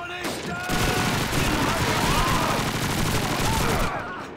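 Rapid bursts of gunfire from the video game Call of Duty 2 run almost without pause, a dense, loud barrage of shots that fills the whole stretch with no voices over it.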